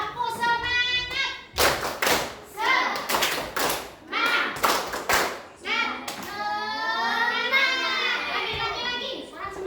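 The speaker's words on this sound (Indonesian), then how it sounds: "Ayo tepuk semangat." A primary-school class performs a rhythmic spirit clap, with bursts of sharp group claps and thumps alternating with children's chanting voices, loud and close in the classroom.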